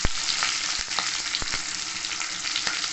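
Large chunks of onion fry in a pan over a high flame for restaurant-style chilli chicken, giving a dense, steady sizzle with scattered pops and utensil taps, near and fairly loud, with no speech.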